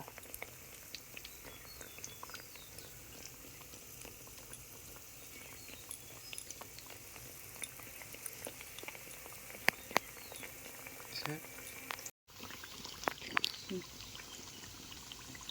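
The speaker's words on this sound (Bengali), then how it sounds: "এই গোলাটার মধ্যে চুবিয়ে গরম তেলে এভাবে ছেড়ে দেব" Bread slices dipped in batter fry in hot oil for bread chops, giving a faint, continuous crackling and bubbling patter with scattered small pops throughout.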